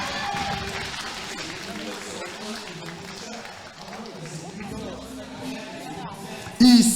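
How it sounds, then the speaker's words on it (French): Audience applause and crowd noise at an under-18 dance competition qualifier, a steady mid-level burst of clapping and cheering mixed with chatter, ending in a sudden loud shout. "Applaudissements pour Titouan"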